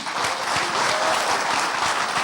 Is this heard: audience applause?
yes